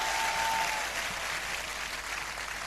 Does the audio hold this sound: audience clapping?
yes